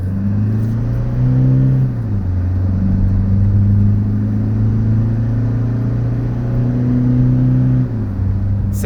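A Toyota Hilux 2.8 turbo diesel climbing a hill drones with a loud, steady engine roar heard from inside the cab, its pitch shifting with gear changes around two and eight seconds.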